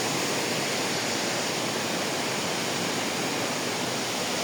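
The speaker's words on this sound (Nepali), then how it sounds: "त्यहाँ चाहिँ वाटरफल खतरा ठुलो छ" The Sonjha Kuna waterfall in the Himalayas rushes as a steady, dense, loud hiss of falling water with no break or voices.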